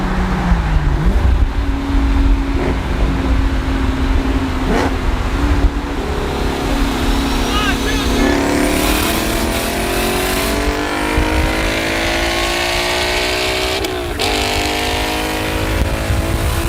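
A Toyota Supra races another car at top end, its engine roaring loud and close, climbing through the gears in rising surges with whining tones under a constant rush of wind and road noise.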